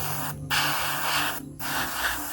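An airbrush sprays paint to create a marble effect in close, loud, steady hissing bursts, with two brief pauses between the sprays.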